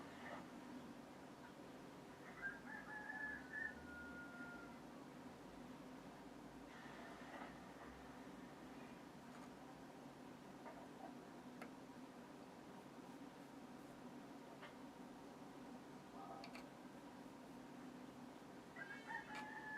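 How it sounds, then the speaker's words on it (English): A faint rooster crows in the distance over a steady outdoor hum, with a couple of further brief calls later on. "You hear the rooster again?"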